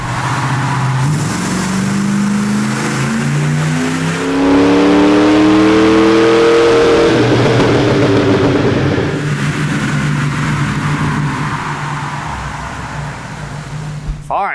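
A 1996 Ford Bronco with JBA shorty headers, Bassani exhaust and 33-inch BFGoodrich tires on a dyno run in second gear: a loud, close engine roar climbs steadily in pitch, peaks, then falls back as the revs drop.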